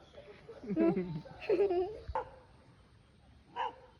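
A dog gives a few short barks and whining yips close by, with a sharp knock and a quieter bark after a pause.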